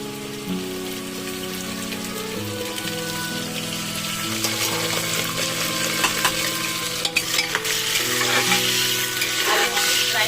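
Potatoes frying in hot oil make a loud, dense, rain-like sizzle that holds steady throughout, with occasional spoon scrapes and pops close by. No one talks.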